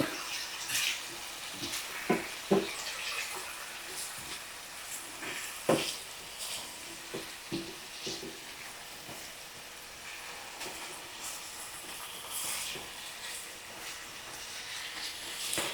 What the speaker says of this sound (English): I'm going to let this cook for about a minute. Or saute for about a minute.